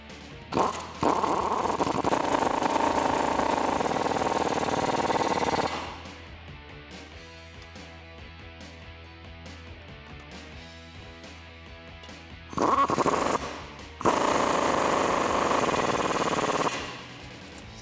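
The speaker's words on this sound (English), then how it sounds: "I'm going to be using that same adjustable wrench, but also a 24mm socket" A Jeep Wrangler TJ steering kit's bolts being run in with a 24mm socket on an impact tool, two long loud rattling bursts separated by a quieter stretch of ratcheting and low hum, close up.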